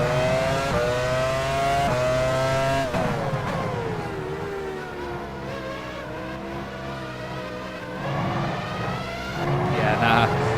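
A Ferrari Formula 1 car in F1 Challenge 99-02 drones steadily at high revs, its engine pitch sweeping down as it goes by, with a voice talking over much of the engine noise.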